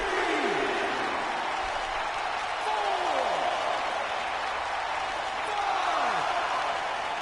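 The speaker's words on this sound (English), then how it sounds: "We've got a raucous crowd here in Philadelphia tonight" A raucous Philadelphia arena crowd in the WWE 2K19 wrestling game roars steadily and loudly throughout, a dense continuous wash of cheering with a few sweeping effects over it.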